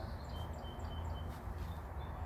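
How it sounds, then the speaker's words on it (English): Birds calling outdoors in an area full of birds: faint, high chirps repeat in short bursts over a steady broadband background hiss, distant and with no voices. "I guess it's a bird. This area is covered in birds,"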